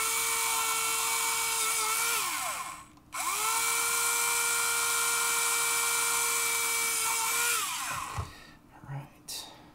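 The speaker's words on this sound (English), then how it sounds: "I'm just going to go ahead and drill a couple holes in it with this." A small high-pitched drill whines steadily in two long bursts with a short pause between while drilling holes in a plastic model kit, then winds down, followed by faint handling noises.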